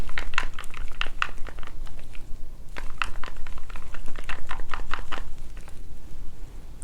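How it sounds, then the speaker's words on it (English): A stick stirs paint mixed with varnish in a container, giving a rapid run of wet clicking and tapping strokes, close and fairly loud, with a brief pause midway. "then I'm just gonna mix it"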